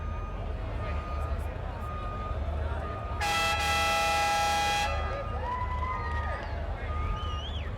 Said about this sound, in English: giving a bit of a toot of the air horn